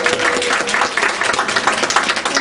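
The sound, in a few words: audience applause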